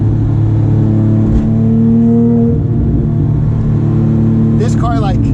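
A Porsche 997.2 GT3 RS engine drones loudly with steady harmonic tones that shift and rise as the revs change, continuous and close, with a voice breaking in near the end.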